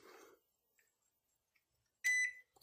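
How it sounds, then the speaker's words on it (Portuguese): A microwave oven control board, powered at 5 volts, gives a short, loud electronic beep after a brief faint rustle and a couple of tiny clicks, followed by a small relay click at the end. "você já ouve o bip já com grande intensidade e o chaveamento de um dos relés."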